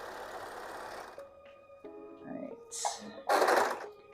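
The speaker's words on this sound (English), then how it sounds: "I'm going to run it through. You see how much the serger is moving?" A Singer 14HD854 serger (overlock machine) runs in short bursts, a whirring rattle at the start and again near the end, separated by quiet gaps holding small clicks and handling sounds.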